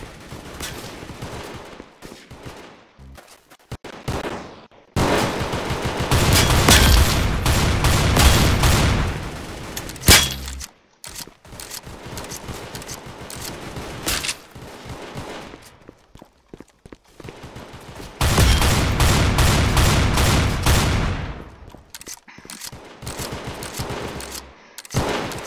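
Gunfire in Counter Blox, shotguns and a Desert Eagle, erupts in loud dense bursts of rapid shots separated by quieter gaps, with brief footsteps between volleys.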